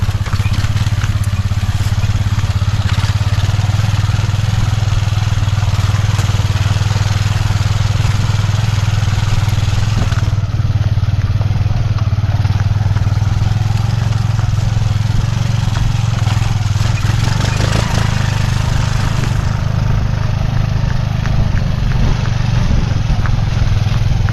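Motorcycle riding over a rough rural road, a steady low engine drone with rattling and clatter running continuously throughout, loud and close.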